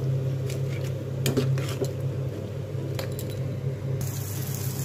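A spoon clatters and scrapes in a pan as chana masala is stirred with sugar and coriander leaves, with intermittent metallic knocks over a soft steady background, no talking.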